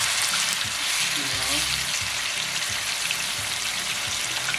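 Ackee and chicken fry together in a pot over a smokepot fire, giving a constant loud hissing sizzle with low rumbling underneath and no breaks.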